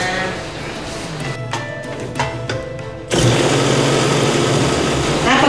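A grinder crushes leftover bones into ash with a loud continuous mechanical whine and rattle that surges even louder and denser partway through.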